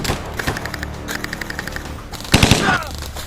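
Gunfire in a short action film: bursts of sharp shots crack in quick succession, with a louder, denser volley near the end.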